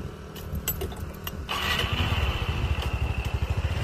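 A Honda RSX Fi motorcycle fitted with a modified cam and a six-spring clutch is cranked and fires up, its engine catching about halfway through and settling into a loud, close, rapid pulsing idle.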